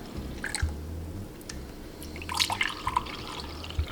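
Homemade ginger beer drips and splashes in a kitchen, a run of close, irregular wet drops and small splatters with low trickling underneath, heard alone without talk.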